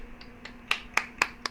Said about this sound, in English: I have to press the button and clap